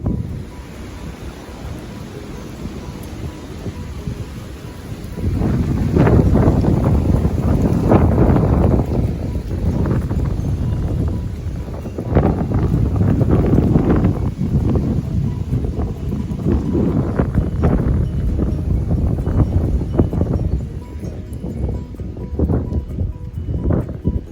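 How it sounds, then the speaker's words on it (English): Gusty wind buffets the microphone in a low, rumbling roar that swells and eases in long waves, with no voices present. "Windy today."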